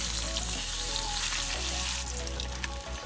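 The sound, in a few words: rohu fish frying in oil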